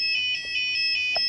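Electronic police siren tone generated by an Arduino project, a steady high-pitched beeping pattern pulsing about every 0.2 seconds, loud and close with no voices.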